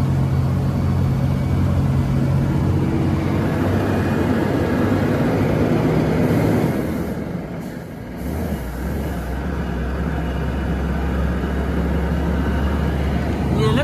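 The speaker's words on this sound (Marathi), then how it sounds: "मित्रांनो किती जरी दाबत आलं तरी गाडी इथे येऊन एवढी स्लो होत्या बघा" A loaded Leyland truck's diesel engine labours up a steep ghat climb, a loud continuous low drone that eases briefly midway and then settles into a deeper heavy rumble, with someone talking over it.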